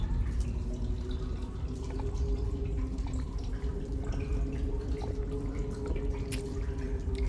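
Faint liquid drips and gentle watery trickles play while the character drinks water to regenerate in Metal Gear Solid 3, over a constant low background drone.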